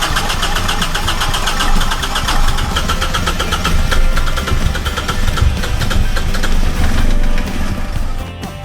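A primed engine, its cylinder rubbed with oil and the compression released, catches and runs loud and close with a rapid, steady knocking rhythm, then dips slightly as it settles near the end.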